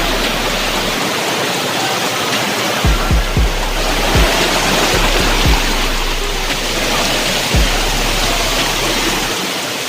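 A waterfall's rushing water roars in a loud, continuous wash close by, with a few low thumps from handling and no talking.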